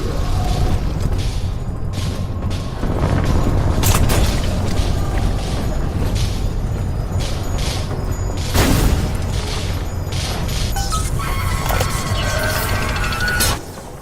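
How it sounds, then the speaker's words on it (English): A charged explosive blast in the video game Bioshock 2, a dense, loud roar of booming bursts and crashing debris lasting throughout, with sharp impacts near the start and midway, underlying game noise and mechanical clatter. "Charge up for an explosive blast."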